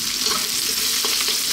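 Mushrooms and half-cooked cauliflower stir-fry in a hot pan, giving a loud, close, dense sizzle with a few brief stirring scrapes.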